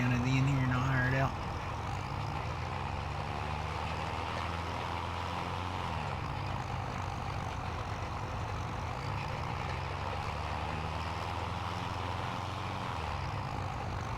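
A tractor engine in Farming Simulator 25, working on the Owendale, Michigan farm map, gives a steady, loud low drone that holds at an even level throughout.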